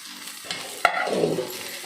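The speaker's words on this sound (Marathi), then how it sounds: "सय आता भाजून घेवपाची" Grated coconut is roasted in a pan for a Goan dish, heard up close as a brief spoon scrape and stir. A soft sizzle continues underneath.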